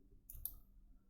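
A quiet double click of a computer mouse, two brief sharp taps close together over faint room hum.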